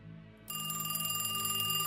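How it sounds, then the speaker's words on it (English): A telephone rings loud and close after a quiet lead-in, with a bright, repeating electronic trill that starts suddenly and carries on steadily, alone. "My phone rang at around 3 a.m."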